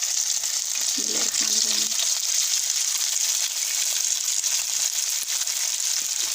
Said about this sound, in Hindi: यहाँ हमने अपना तेल गर्म करने के लिए रख दिया है। अब इसमें हम अपनी फ़िश ऐड करेंगे